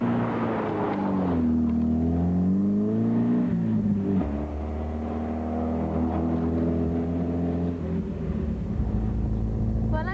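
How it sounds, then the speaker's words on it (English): A Caterham Super 7 sports car from around 1986 pulls away, its engine revving loud and close with rising and falling pitch through several gear changes, then settling into a steady drone. "I thought I'd get to drive a Caterham Super 7"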